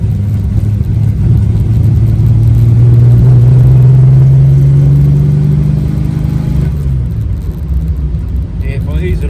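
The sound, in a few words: Holden Torana car engine revving while driving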